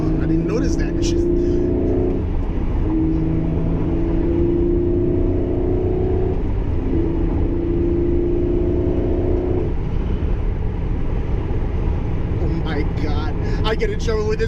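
Lamborghini Murcielago engine droning loudly and steadily while driving, with rising and falling tones as it revs through downshifts; people talk over it inside the car.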